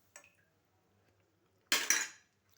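A lid is set down on a cooking pot of peanut rice, a faint light clink followed by a sharp, bright metallic clatter, close by and with no talking.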